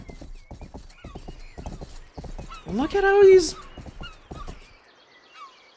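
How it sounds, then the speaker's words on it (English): A sturdy horse's hooves clip-clop in a steady rhythm while it neighs loudly midway; people talk over the hoofbeats. "That's a pretty beefy horse, by the way."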